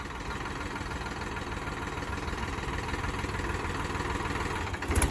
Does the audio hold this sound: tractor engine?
yes